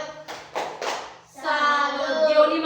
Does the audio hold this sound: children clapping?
yes